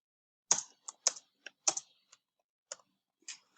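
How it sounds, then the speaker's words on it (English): Isolated keystrokes on a computer keyboard come in short bursts of a few quick clicks with pauses between, close and fairly quiet, with no voices. "I will type in whatever I want to type"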